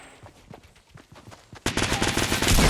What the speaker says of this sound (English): I decided to pull out the shotgun.